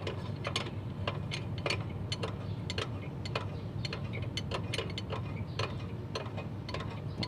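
A vehicle handbrake adjuster is turned to tighten the handbrake, giving faint, quick ratcheting clicks in an irregular series, close by and without talk.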